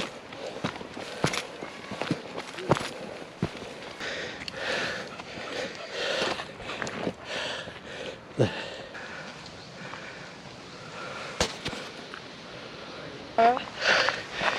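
Footsteps crunch irregularly along a steep uphill woodland path during a walk with portable amateur radio gear. Heavy breathing and sniffs are close to the listener, and a person talks now and then.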